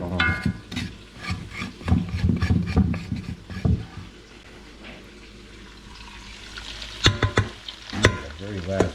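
Ribeye pan juices fry and get stirred in a pan with irregular scraping and clattering strokes over a steady sizzle, busier at the start and near the end, quieter in the middle.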